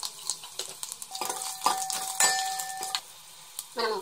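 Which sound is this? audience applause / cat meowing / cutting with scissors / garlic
garlic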